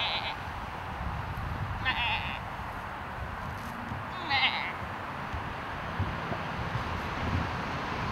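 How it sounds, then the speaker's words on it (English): Sheep bleat in an open field, two or three short wavering calls at moderate distance over a steady wind rumble against the microphone, with no one speaking. "This is my sheep that I've added to the herd."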